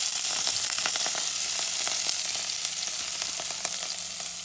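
Fresh parsley sizzles and fries in a hot pan for Moroccan cabbage zaalouk. The bright, crackling sizzle runs steadily and close, with scattered pops and spits, and no one talks.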